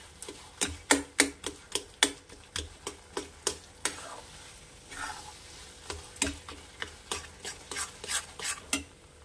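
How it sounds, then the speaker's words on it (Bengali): A spatula scrapes and knocks against a wok as grated coconut filling for gokul pitha is stirred over a raised flame, a quiet, close series of sharp ticks in an irregular rhythm over a faint frying hiss, with no talk. "ক্রমাগত নাড়তে থাকবো, নালে পুরটা নিচ দিয়ে মানে তলা দিয়ে পুড়ে যাবে।"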